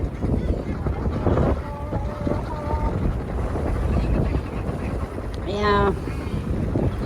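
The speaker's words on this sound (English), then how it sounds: "how are you doing on this ridiculously windy day?" Strong gusts hit the microphone outdoors by the water on a very windy day, making a constant low roar and buffeting throughout, with people talking briefly over it.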